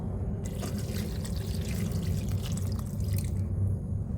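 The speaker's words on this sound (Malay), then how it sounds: "Kemudian masukkan air sehingga tenggelam cili kering." Hot filtered water pours into a pot over dried chillies, a continuous close trickling and splashing that runs for a few seconds before tapering off.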